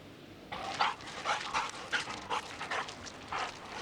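A pack of hunting hounds gives off panting yips and short whimpering cries in quick uneven bursts, fairly close, with no voices over them.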